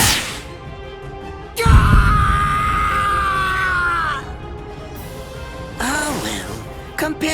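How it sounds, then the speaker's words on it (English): A man screams in pain in the Bleach Rebirth of Souls video game, a loud, strained cry held for several seconds amid sharp impact sounds, followed by shorter pained yells. "compared to the screams that a woman is able to produce, a man's lack a certain charm"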